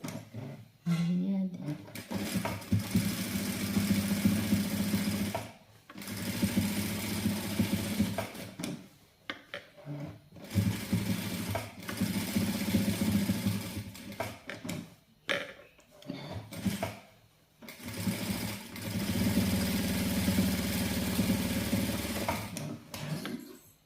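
A sewing machine stitches a jumper indoors, running in steady whirring bursts of several seconds each, broken by short pauses, with a low hum throughout and close, fairly quiet mechanical chatter.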